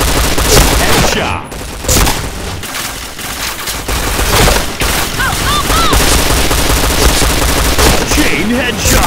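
Rapid, dense bursts of P90 submachine gun fire in a video game, loud and nearly continuous with short gaps between volleys.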